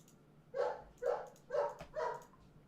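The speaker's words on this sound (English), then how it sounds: "Sorry about the dog in the background, guys." Four distinct dog barks in a steady rhythm come from the background of an indoor space, moderately loud, with no other sounds competing.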